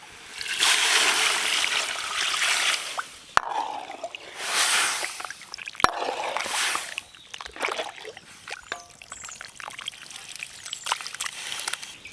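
Water is poured into a pot of mutton with rock salt, turmeric and ground ginger-garlic for village-style mutton Manchurian, several splashing pours and trickles in bursts with clinks of the vessel between them.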